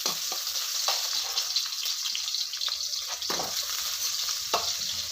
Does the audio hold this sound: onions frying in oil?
yes